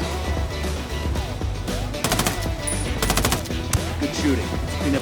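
Automatic rifle fire in the video game Ghost Recon Wildlands, bursts of rapid shots over a low droning game background with a faint voice.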